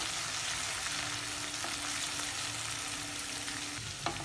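Grated ginger sizzles lightly in hot ghee while being stirred, a soft, even frying hiss running continuously with small clinks near the end.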